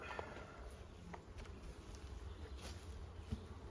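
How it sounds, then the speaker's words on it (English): Bees buzz faintly inside a beehive, a low continuous drone with a few brief nearer passes and no talk. "Looks like these bees are just hanging out"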